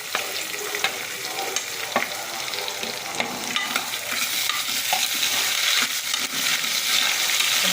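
Chopped tomatoes sautéing in a hot pan for sambar, a continuous sizzle with a spoon stirring and scraping at irregular moments, growing slightly louder toward the end, with no talking.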